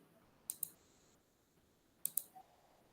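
A computer mouse clicks in two quick pairs about a second and a half apart, sharp and close in a quiet room, with a faint extra tap after the second pair.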